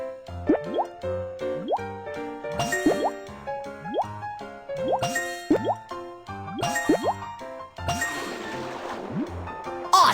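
Cartoonish water drips and bubbly plops from a fire truck video game as pipes fill up, a steady run of bright rising blips over light game music, ending in a louder gurgling splash.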